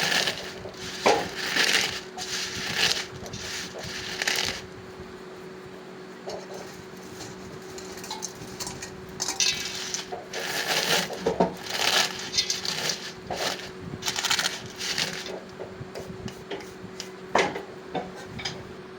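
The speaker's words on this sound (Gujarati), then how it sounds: "જે લાંબી લાંબી સેવ હતી એને ભાંગીને ભૂક્કો કરીને, મતલબ સાવ ભૂક્કો પણ નહીં, નાની નાની સેવ કરી દીધી છે" Long strands of fried sev snack get broken into small pieces by hand, producing bursts of crisp crunching and crackling in irregular clusters with short quiet gaps, close and clear, no talking.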